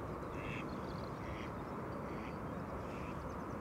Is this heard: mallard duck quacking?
yes